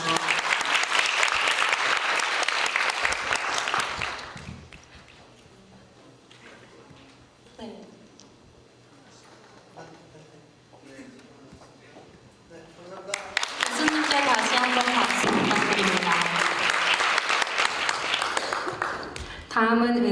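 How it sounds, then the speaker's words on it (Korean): Large audience at a university debate competition final in Korea applauds award winners and presenters. Loud, dense clapping opens the scene, gives way to a stretch of spoken announcement, then swells again into full, sustained applause. "시상해주신 여건종 교수님과 카멜 케이스 그리고 공명팀에게 큰 박수 부탁드립니다."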